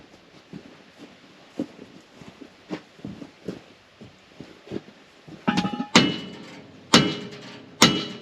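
Light scattered taps give way to several loud, ringing metallic hammer strikes on the ridge of a chain idler wheel near the end, spaced about a second apart.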